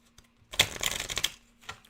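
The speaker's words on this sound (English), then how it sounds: "I always pay attention to how cards shuffle and to how they fly out, slide out, just come out." Tarot cards being shuffled, a quick close riffle of papery flutters lasting under a second, followed by a softer brief card slide, quiet otherwise.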